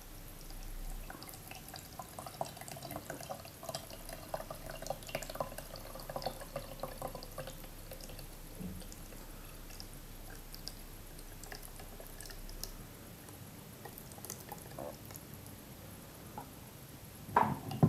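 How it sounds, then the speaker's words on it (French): Water pours in a steady trickle into the water tank of an Oclean W10 electric water flosser, with soft drips and small handling knocks, ending with a sharper clatter as the tank is handled. "pour remplir l'eau, on remplit comme ceci"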